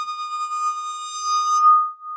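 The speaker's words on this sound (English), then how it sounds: "It's a wine glass bowing." Bowed wine glass ringing with a single steady pure tone and bright overtones, sustained evenly at moderate loudness, the upper partials fading out near the end while the core tone carries on alone.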